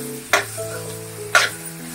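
Masala for a palak and soybean sabji sautéing in oil in a pan, with two short, close sizzling bursts about a second apart over a low, steady background hum.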